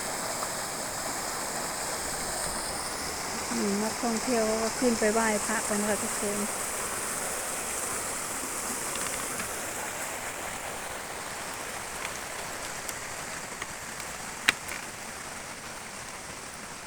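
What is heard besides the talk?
waterfall flowing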